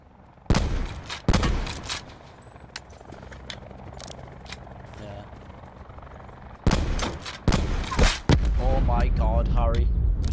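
Sniper rifle shots ring out in the battle royale game Call of Duty Black Ops 4 Blackout, several loud sharp cracks spread across the stretch amid other gunfire, with players talking over the action.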